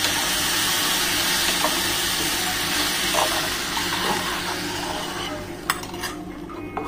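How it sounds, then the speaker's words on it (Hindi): A hot tadka tempering is poured into a clear vegetable soup in a pot, giving a crackling sizzle with clinks of a metal utensil against the pan and a few sharp taps near the end. "देखिए गाइस अंदर ये डाल के ये तड़का डाल देती हूँ।"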